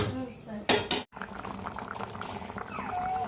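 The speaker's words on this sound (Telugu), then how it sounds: "బియ్యం ఉడుకుతా ఉంది" Rice boiling in a pot on a home stove, a steady bubbling churn with a couple of clanks from a utensil against the pot partway through, fairly close.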